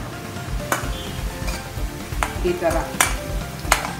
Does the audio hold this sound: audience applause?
no